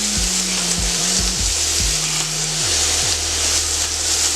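Chicken fajita meat seasoned with adobo and Lawry's seasoning salt sizzling loudly in a pan, a dense, steady, close frying hiss that continues unbroken, with a low hum beneath it.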